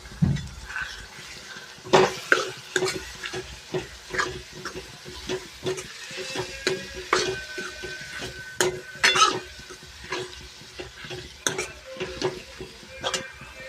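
A spoon stirs a Manchurian sauce mixture of soy sauce and tomato ketchup in a pot, with repeated clinks and scrapes against the metal over a soft sizzle, close and rhythmic, no speech.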